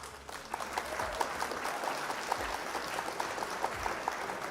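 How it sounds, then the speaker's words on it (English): Applause from a small crowd at a card game league stream, faint, steady scattered clapping running throughout under a quiet room hum. "Round of applause for Love Broker."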